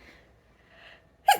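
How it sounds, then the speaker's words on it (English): A single sharp human sneeze bursts out loud and close at the very end, after a second of quiet breathing. "I've got to sneeze."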